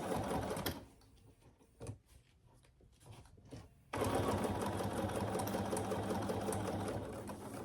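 A domestic sewing machine stitches a zippered Jordan pouch, its loud, steady mechanical whirr in two runs: a short burst at the start and a long continuous run in the second half, with quiet handling noises between.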